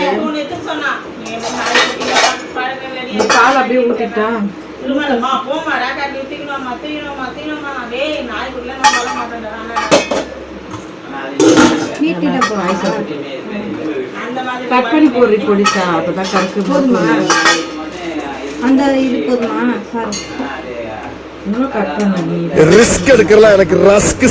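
Tomatoes being cut with a knife in a home kitchen while dishes and cutlery clink, close tapping and clattering scattered through steady conversation among several friends.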